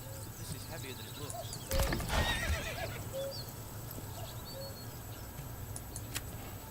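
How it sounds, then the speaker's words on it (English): A horse in the medieval strategy game Manor Lords lets out a loud whinny, surrounded by light clip-clopping hooves and faint birdsong. The neigh bursts out briefly near the middle against a quieter outdoor backdrop, with a voice talking over it. "Where the heck did that horse go?"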